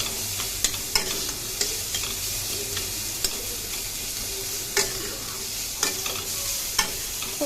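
Vigorous stirring in a frying pan over a turned-up gas flame for a lentil dish, with a continuous sizzle and regular metallic scrapes and clicks spaced about a second apart.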